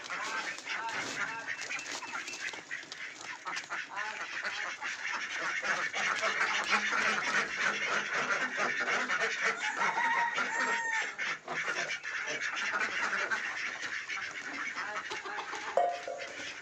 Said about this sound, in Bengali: এখানে আমাদের সব হাঁসগুলো আছে গাইস।